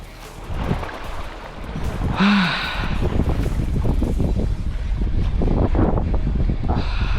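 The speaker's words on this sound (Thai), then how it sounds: "ยลมแรงนะครับคุณผู้ชม" Strong wind rushes across a boat at sea during squid fishing near Ko Si Chang, a continuous loud blustery roar with a brief whistling tone and faint distant sounds mixed in.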